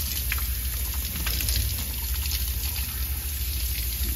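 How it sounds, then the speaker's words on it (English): Running water rinses seafood for a seafood boil of king crab and lobster tails, a steady close splash and trickle with a constant low rumble beneath it throughout. "Rinse it out real good"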